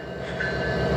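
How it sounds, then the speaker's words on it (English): The CP Rail Holiday Train pulls out of Portage la Prairie: a steady, loud rumble of rail cars rolling close by, with faint rhythmic wheel clacks and a thin high squeal. No voices are heard. "Holiday train from CP Rail is pulling out again from Portage la Prairie after a two-year hiatus"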